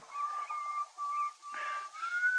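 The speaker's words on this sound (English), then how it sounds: "will you please stop whistling?" A person whistles a wavering, high tune in several short phrases with brief pauses between them, fairly close and fairly quiet.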